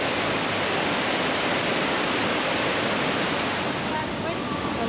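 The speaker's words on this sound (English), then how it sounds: "Water's rushing by." Water rushing through a stream in the village of Hawes, a constant dense hiss and roar that stays steady and fairly loud throughout.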